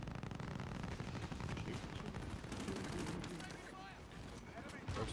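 Dense, continuous gunfire in the Call of Duty Warzone video game: rapid overlapping shots and booming reports fill the whole stretch at a steady level, easing slightly toward the end before a final louder burst.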